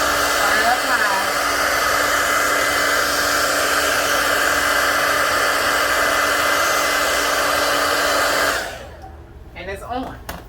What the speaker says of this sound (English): Put the blow dryer on warm, not cold.